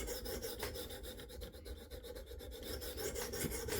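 Knafs Lander 4 knife steel drawn across a KME 600 grit sharpening stone, a steady close rasping scrape in continuous back-and-forth strokes with no talking.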